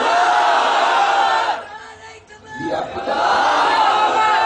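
A large gathered crowd roars back a Nara-e-Takbir chant in unison, loud and close, dropping briefly into a lull midway before the massed voices surge again.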